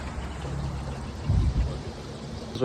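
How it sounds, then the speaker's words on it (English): A waterfall in Quetico, Ontario rushes in a continuous, close, full roar of pouring water, surging a little louder midway, with no talk. "Quetico waterfall."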